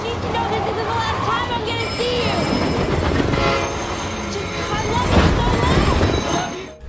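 A train rushes past loudly with rumbling wheels and a blaring horn, a dense roar that swells near the end, with some voices mixed in.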